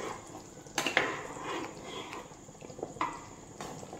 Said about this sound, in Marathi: आता हे सगळं व्यवस्थित मिक्स करायचं आहे